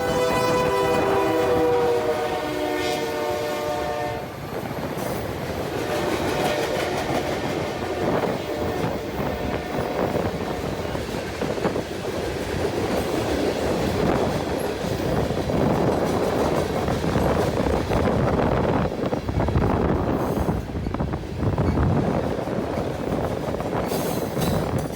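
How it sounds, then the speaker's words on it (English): An eastbound freight train passes close by, opening with a sustained horn blast before its cars roll past in a loud, steady rumble with rhythmic wheel clatter for the rest of the run. "I ran outside to the sound of an eastbound."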